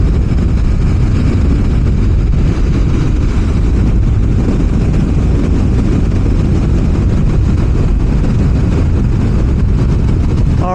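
A Suzuki GSXR motorcycle leans through a curve at just over 100 km/h, giving a steady, loud engine drone mixed with heavy wind rumble that runs unbroken for the whole stretch, with no voices.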